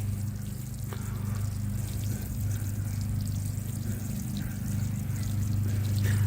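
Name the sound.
watering newly planted tomatoes with water, soaking the soil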